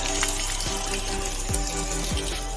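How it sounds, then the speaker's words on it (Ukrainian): Cold, fresh water runs steadily from a spring or outlet in a landscaped, tree-planted hollow, producing a continuous close gush and splash with no voices. "Холоденька, свіженька водичка тече."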